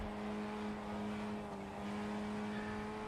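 Continuous car noise in a racing video game, with a steady tonal engine drone and a rushing layer of tyre roar running beneath it at an even, fairly loud level.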